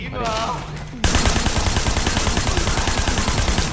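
Sleeping Dogs gunfire erupts after a brief voice, turning into a loud, rapid volley of shots that rattles on continuously to the end.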